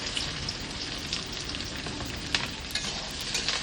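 Onions frying in mustard oil in a pan with bay leaf and dried red chilli, giving a dense, continuous close sizzle with scattered crackles and light stirring, and no voices.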